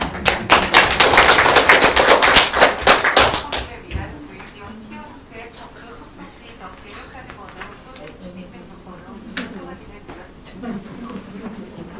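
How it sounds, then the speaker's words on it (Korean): Audience applause at a Korean mothers' association conference: a dense burst of clapping from the room lasting about four seconds, then fading into quieter room sound with a speaker's voice. "박수 부탁드립니다"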